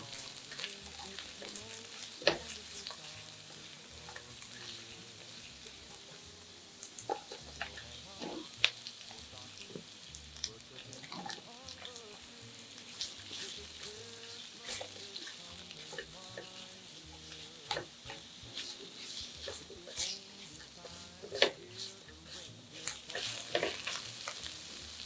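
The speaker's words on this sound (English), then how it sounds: "Now, sauté garlic, onion and red onion until fragrant." Garlic, onion and red onion sautéing in a pan, a steady sizzle with frequent stirring scrapes and clinks of a utensil throughout, fairly quiet and without talk.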